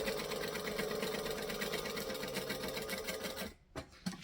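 Sewing machine running steadily in a rapid, even stitching rhythm across the top of a seam, close and continuous, then stopping abruptly near the end with a few light clicks.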